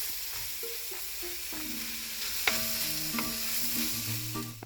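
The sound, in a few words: tomato with mint and curry leaves sizzling in pan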